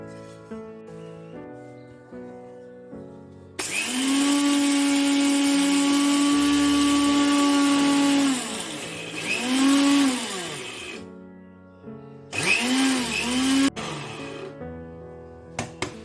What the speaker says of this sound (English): now is the time we are going to grind the spices into a powder form